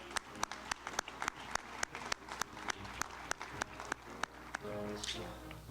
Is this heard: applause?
yes